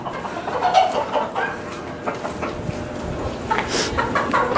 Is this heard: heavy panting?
no